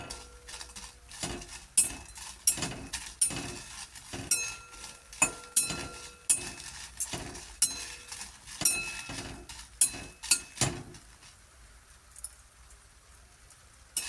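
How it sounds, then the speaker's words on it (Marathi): Red chillies dry-roasting in a pan are stirred with a metal utensil, giving a steady run of close, rhythmic scrapes and clinks that stop near the end, with no talking. "आता आपले मिरच्या भाजल्या, आपण काढून घेऊ त्या"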